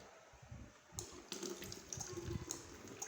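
Water drains and splashes steadily from the reservoir tank of an Arduino-based automatic water-filling system, a close, continuous trickle with a few brighter splashes.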